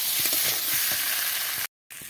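Potol bora curry masala with turmeric and salt sautéing in a pan, a close, even sizzle with soft stirring, cut by a brief silent gap near the end.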